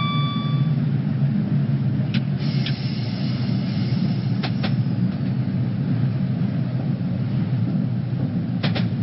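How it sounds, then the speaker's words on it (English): A passing 8-car train unit in Train Simulator 2018 on the St Pancras to Bedford line, heard as a steady, loud low rumble that runs throughout, with sharp clacks of wheels over rail joints at intervals. "we have another 8-car unit passing us"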